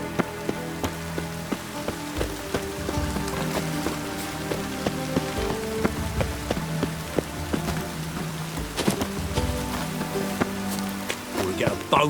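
Rain falls steadily in a Witcher 3: Wild Hunt game world, a soft continuous wash with scattered distinct droplet taps, mixed with low rumbling ambience and faint tonal background sounds.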